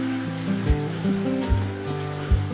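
Water flowing through a limestone cave in Meghalaya, a steady close wash and rush of water with a few low surges, no talk over it.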